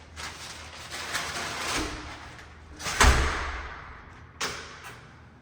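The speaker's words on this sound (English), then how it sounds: "Still entering the house, big iron door into the foyer." A big iron front door of a house swings open into the foyer, rolling and scraping with a heavy thud near the middle and a sharper knock just after.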